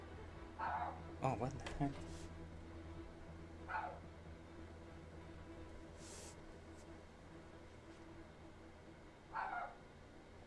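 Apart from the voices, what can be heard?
dog barking outside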